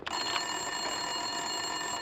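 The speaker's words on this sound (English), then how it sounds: "Winterson's phone was ringing." An office telephone in Max Payne 2 rings with a steady electronic trill that stays loud and unbroken, with no talk over it.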